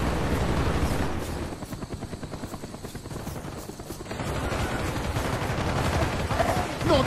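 Attack helicopters in Call of Duty: Black Ops thrum with steady pulsing rotor beats throughout, mixed with bursts of gunfire and battle noise, loud and close.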